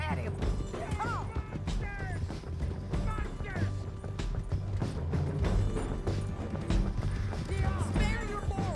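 A horse gallops in Red Dead Redemption 2, its hooves clip-clopping in a quick, steady rhythm with creaks of tack and gear, while people talk over the ride.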